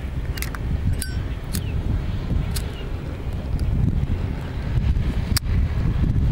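Steady wind buffeting the microphone, a continuous low rumble with a few brief clicks and gusts throughout.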